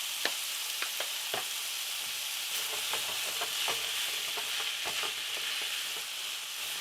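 Pork sausage fries in a pan with a steady, close sizzle, broken by scattered pops and spoon scrapes throughout, with no talking.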